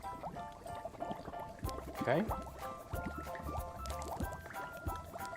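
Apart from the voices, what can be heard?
pouring water into a cup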